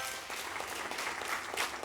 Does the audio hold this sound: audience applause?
yes